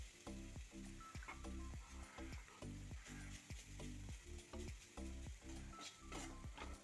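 A ground paste of coconut, turmeric, chilli, garlic and cumin sizzles steadily in a hot pan, with rhythmic scraping stirs repeating about twice a second over a constant close frying hiss.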